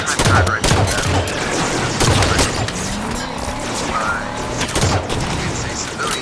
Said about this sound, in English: It's a civilian assault rifle.